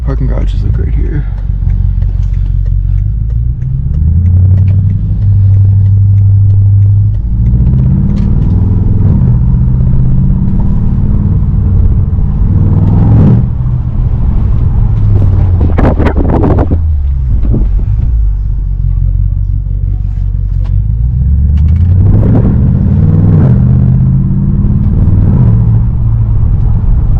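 Straight-piped BMW driving through streets and a parking garage, loud deep exhaust rumble swelling and easing through gear changes with sharp revving bursts, close and dominant, with people talking over it.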